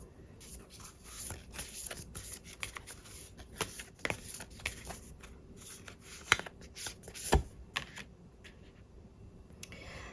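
Tarot cards being shuffled and drawn, giving soft papery riffles and slides with a few sharper snaps, close and fairly quiet with no talk.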